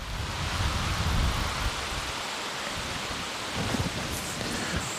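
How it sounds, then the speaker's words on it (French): Wind blows hard across a carp fishing spot at the water's edge, making a loud, continuous roaring rush with gusty low rumbles throughout and no voices. "Il y a beaucoup de vent."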